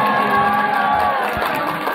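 An audience at an Independence Day sholawat religious music event cheers and shouts in a dense, steady crowd roar, with some voices rising above the noise.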